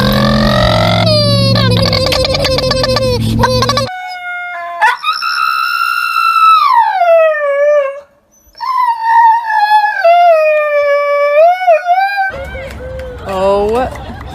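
A fluffy dog howls in long, wavering, rising and falling notes through the middle of the clip, loud and close, with a brief dip before the howls resume, framed by bursts of other busy household noise.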